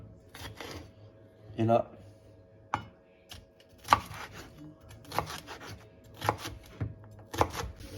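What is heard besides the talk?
knife chopping food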